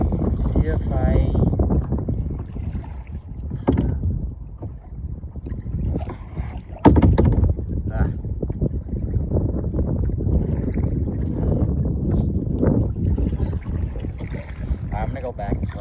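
Strong wind roars across open water around a kayak in high winds and icy cold water, a steady loud rush with gusts and splashing, continuous throughout with a voice talking over it.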